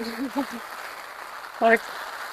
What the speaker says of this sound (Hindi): इतनी तेज बारिश हो रही, देखो ये बारिश